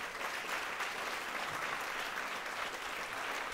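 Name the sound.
audience applause for videographers and photographers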